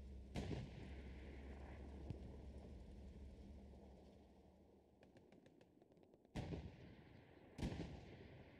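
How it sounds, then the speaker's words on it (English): Tank cannon fire from a tank battle in the WWII shooter Hell Let Loose, with a Panzer IV nearby: three heavy booms over a steady low battlefield rumble, with a short run of faint rapid clicks in between. "There is a tank battle going on in the back right here, though."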